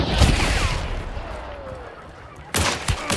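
Shotgun blasts in the Hunt: Showdown game, a loud shot at the start and a pair of heavy booms near the end, with a soft voice over the gap between them.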